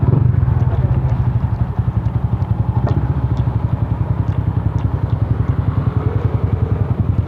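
A Sniper 150 motorcycle fitted with an aftermarket exhaust pipe idles nearby, a loud, steady, rapid low putter with fine clattering pulses throughout and no talk.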